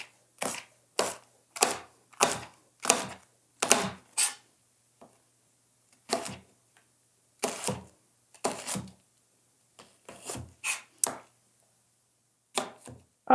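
Knife chopping jalapeños on a cutting board: sharp, close thuds in quick bursts of several strokes, separated by short pauses, with no voices.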